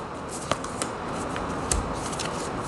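Tarot cards shuffled and laid down during a reading, with a few soft, crisp card snaps and slides over a steady low room hiss, no talk.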